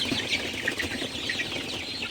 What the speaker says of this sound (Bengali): আমার সোনালি মুরগির বাচ্চাগুলো কিন্তু মাঠে ভালো আছে সুস্থ আছে